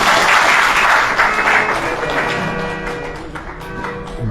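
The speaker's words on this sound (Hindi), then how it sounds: "ताली बजा दो आप।" An audience claps during a religious discourse at a temple, loud dense applause fading gradually toward the end, with sustained tonal sound underneath.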